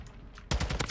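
Gunfire in a ranked shooter video game: after a quiet half second, a rapid, loud burst of shots rattles out in quick succession, close and punchy.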